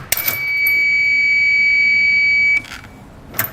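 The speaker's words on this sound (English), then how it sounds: "when we pull this, we're going to hear a beep." A trailer breakaway kit switch sounds a loud, sustained electronic beep lasting about two seconds, with a few short clicks and knocks before it starts and another brief click after it stops.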